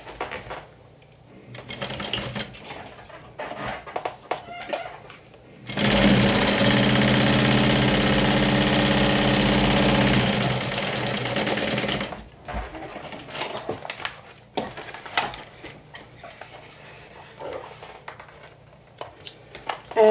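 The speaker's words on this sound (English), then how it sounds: "So now you want to top stitch up your seam allowance." Sewing machine top-stitching the seam allowance on a crossbody bag, one loud sustained run of about six seconds at close range, framed by quieter handling noises before and after.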